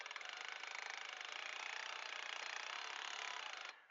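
A loud, continuous high-speed grinding whir of a drill-driven cutting tool cutting out a car windshield at the A-pillar, running steadily for several seconds, then cutting off abruptly.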